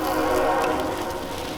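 A passing train near an outdoor fire brick rocket stove sounds its horn, a sustained tonal blare over a rumbling roar of rail noise, loud and continuous.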